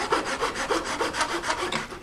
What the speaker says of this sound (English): I'm going to run over this with 120 just to level off all of the louvers so I get a good tight fit with the trim.